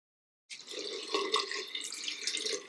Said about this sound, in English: So hopefully when I rinse it out, I can really start to enhance that curl pattern.